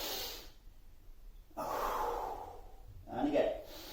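Slow deep breaths during a splits-training stretch, a long airy exhale followed by another heavier breath after a quiet gap, close and soft.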